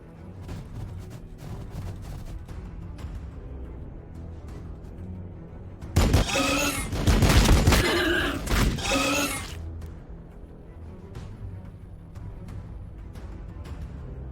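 Heavy fire support barrage in Warhammer 40k: Battlesector, a loud burst of explosive gunfire and blasts rising over a quieter battle backdrop for a few seconds before fading back.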